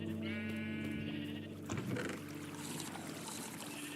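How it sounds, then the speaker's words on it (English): Blocky sheep in the Minecraft video game bleat in short, wavering calls, quiet against a faint steady background hum. "Actually, let's just start breeding sheep."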